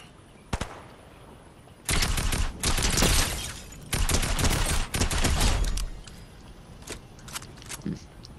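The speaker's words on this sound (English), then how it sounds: "Oh, shooting at the llama." Bursts of rapid automatic gunfire in Fortnite aimed at a llama piñata, loud sustained volleys of several seconds with a pause between them and scattered single shots trailing off afterward.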